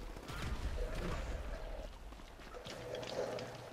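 Explosions and gunfire in GTA 5 Online, a dense rumbling burst of booms and rapid shots that fills the moment, loud and close with no pauses.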